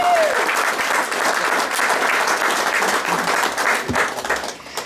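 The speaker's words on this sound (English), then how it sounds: "I think that they deserve a round of applause for participating." Audience at a county supervisor candidate debate in Coulterville, California, applauding the candidates: steady, dense clapping from a crowd of many hands, fairly loud and sustained throughout, with a few brief voices and shuffles underneath.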